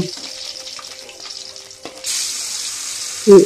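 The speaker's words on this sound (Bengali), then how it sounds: "আমি একে একে মাছগুলো ভেজে তুলে নেব।" Shing (stinging catfish) frying in oil in a pan: a close, steady hiss that swells to a louder sizzle partway through, with a brief clatter near the end.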